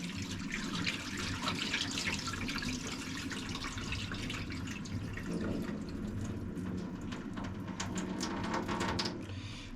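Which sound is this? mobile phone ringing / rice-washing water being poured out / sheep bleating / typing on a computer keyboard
rice-washing water being poured out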